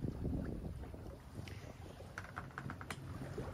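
A sailboat on a beam reach in light wind of about 8 knots, off Galiano Island, carries a soft rush of wind and water close by, with a few light clicks and taps over it.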